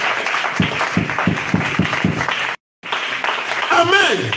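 A church congregation bursts into sustained applause with rhythmic clapping during a French-language prayer service, loud and close, broken by a brief dropout before the crowd noise resumes.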